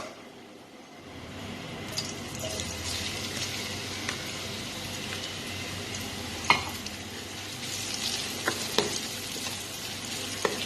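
Onion sizzles in hot oil in a kadai, a constant close crackling hiss with occasional stirring scrapes and light clinks of the spoon against the metal pan.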